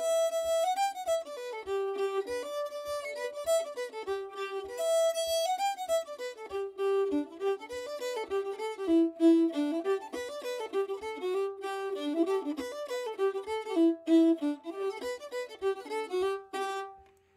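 An old-time fiddle tune plays alone and close, a variation of Billy in the Lowgrounds built on running arpeggios, with steady bowed notes over a soft, regular foot tap or beat.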